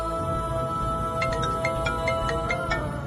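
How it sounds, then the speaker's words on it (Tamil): A mobile phone ringtone for an incoming call: a repeating pattern of bright electronic tones begins partway through and continues steadily over a constant low background hum, with no talk. "என்ன பிரியாணி ஃபோன் பண்றாங்க?"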